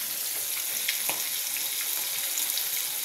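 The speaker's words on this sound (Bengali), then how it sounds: "যেভাবে মাছ ভাজা হচ্ছে" Pangas fish fries in a pan, a steady close-up sizzle and crackle of hot oil with occasional small pops, heard on its own without talk.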